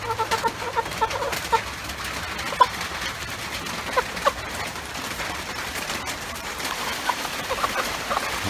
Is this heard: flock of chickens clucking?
yes